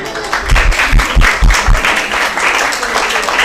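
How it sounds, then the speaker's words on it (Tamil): Church audience at a children's Bible school program applauds, a brief burst of close, dense hand clapping from many people that rises quickly and then settles into a steadier patter. "அவங்க சொல்லி தான் நம்ம எல்லாரும் கைத்தட்ட வேண்டியது இருக்கு"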